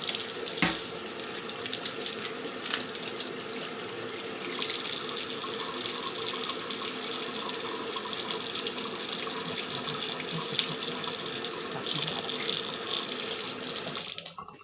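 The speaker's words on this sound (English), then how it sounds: "I'm finna put some warm water on them" Warm tap water runs steadily from a kitchen faucet over refrigerated eggs in a sink, a continuous, close, hissing splash lasting the whole time with only slight shifts in flow.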